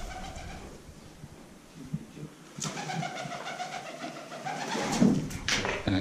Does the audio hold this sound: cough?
no